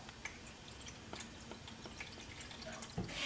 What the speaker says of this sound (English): I'm going to get a little bit more water.